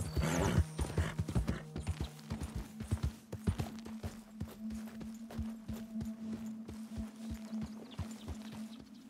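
Horse hooves clip-clopping at a steady walking rhythm in Red Dead Redemption 2, close and even, with a faint whinny near the start and a low game ambience beneath.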